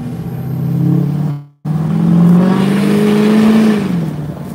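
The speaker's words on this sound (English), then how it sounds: "You're going to be able to hear some exhaust from the Duramax." A Duramax diesel truck engine rumbles loud and close, a steady low exhaust drone that cuts out briefly, then returns and swells as it revs up before easing off, with no talking.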